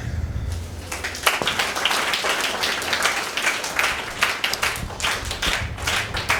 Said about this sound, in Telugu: ఎవరికి చాక్లెట్ ఇచ్చినా చప్పట్లు కొట్టాలి